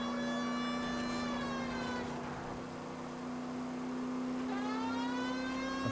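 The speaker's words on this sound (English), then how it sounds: "I'm turning on your siren" Police car siren wailing continuously in the 1940s-era crime video game L.A. Noire, a loud steady rising and falling tone over engine hum, with no talk.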